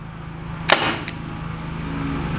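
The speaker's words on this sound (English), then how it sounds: "So let's see what velocity I'm gonna get from the basic stock pistol." A single sharp pop from a First Strike Roscoe paintball revolver, stock pistol, close and loud, followed by a quick second click, then a faint background hum.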